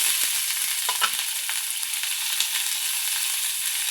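Onion, cumin and curry leaves sautéing in hot oil make a loud, continuous sizzle with crisp bursts and occasional stirring scrapes, no talking.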